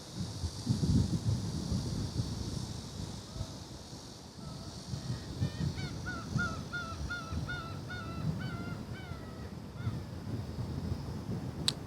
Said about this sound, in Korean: 갈매기인지 하여튼 새소리